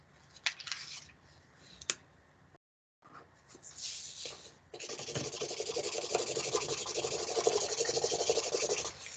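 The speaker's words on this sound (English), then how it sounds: "if you have a marker, you can color a bit." Marker coloring on paper: a few sharp taps and short scratches, a brief silence, then continuous rapid scribbling strokes that grow louder and denser, close up, with no talk.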